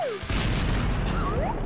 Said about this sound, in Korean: 작은 불꽃놀이를 준비해볼까? 조심해. 귀 막아.